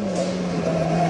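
A WRC rally car in Catalunya races at high speed along a wide, twisty tarmac stage, its engine holding a loud, sustained drone close by with a faint hint of tire noise.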